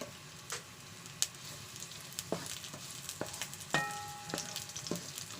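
Ginger sizzles in hot oil while a smoked fish dish is being cooked, a soft continuous fry broken by sharp crackles and pops and a few scraping stirs, close and quiet with no talking.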